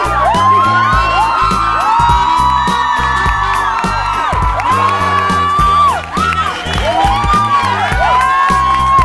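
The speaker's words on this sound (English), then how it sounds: "One more round of applause." A crowd at FanExpo 2015 cheers, whoops and shouts excitedly for the cast, a loud continuous roar of voices with a brief dip partway through.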